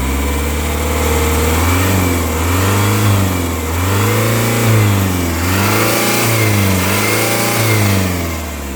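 A 2006 Isuzu Elf NKR71 truck engine revs up and down repeatedly, its loud, steady throttle blips rising and falling in pitch close by with no talking.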